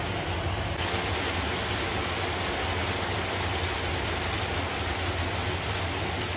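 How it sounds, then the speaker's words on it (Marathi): Steady, dense downpour of heavy rain, a continuous broadband hiss with no breaks, close and loud throughout. "पाऊस खूप जास्तीचा वाढला आहे"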